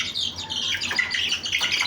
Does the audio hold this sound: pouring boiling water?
no